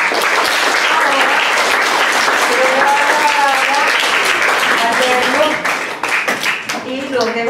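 Loud, sustained audience applause fills an indoor book event honoring a children's and young adult author, steady for about five seconds before thinning into scattered claps, with voices rising underneath.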